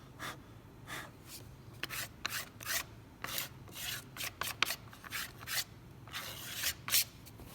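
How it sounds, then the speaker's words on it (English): Short rasping scrape strokes of a blade clearing burrs from a cut in a practice wood rosette inlay, repeated in an uneven rhythm at close range with a faint hum beneath and no voices. "Lots of burrs on there I'm scraping away."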